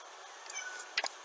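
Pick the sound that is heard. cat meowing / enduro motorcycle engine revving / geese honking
cat meowing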